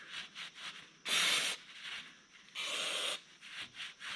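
Threads on a Nova Saginaw 800 series gearbox are cleaned by rubbing, with quick soft scrubbing strokes broken by two longer, louder bursts of harsh friction, close by and with no talking.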